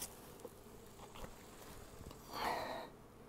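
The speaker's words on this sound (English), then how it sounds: "before I start collecting bees" Honey bees buzz faintly around an open hive during a honey harvest, a few soft passes near the microphone with one louder, closer buzz swelling near the end against quiet background.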